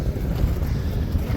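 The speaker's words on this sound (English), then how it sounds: "A little windy though today." Steady, loud wind buffets a microphone on a mountain hiking trail overlooking a small pond, a continuous low rumble with no gaps.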